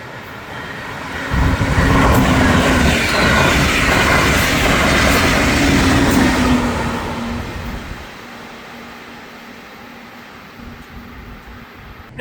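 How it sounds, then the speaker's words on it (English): Passenger train rolling past nearby, a loud rumbling roar with rhythmic clatter that builds quickly, holds for several seconds, then fades as it moves away. "Looks like a passenger train's moving right along."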